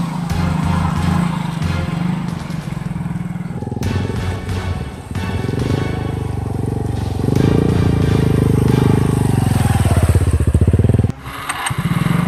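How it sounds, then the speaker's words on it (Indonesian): A short trail motorcycle's engine labours and revs loudly, bogging down on a damaged, rutted road near Labuan, Pandeglang, Banten, with bursts of throttle and a brief cut near the end. "Motor Bang Kumis nancep, lihat, tidak berdaya"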